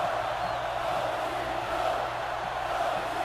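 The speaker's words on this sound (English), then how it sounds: "And the crowd's still in it, trying to keep us alive here, trying to keep us pumped." A stadium crowd in the Madden 08 football video game keeps up a steady, dense roar of cheering and noise from start to end, fairly loud and even, with no distinct voices standing out.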